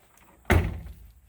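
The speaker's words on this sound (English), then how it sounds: "you want to show them how great the doors close now?" A 1966 Buick Sport Wagon door swings shut with a single solid thunk, close and loud, followed by a short fading rattle in an otherwise quiet space.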